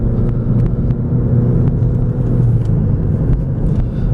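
A 2015 Volkswagen GTI driving on the road and shifting through the gears, a steady loud engine rumble with road noise from inside the car and no talk.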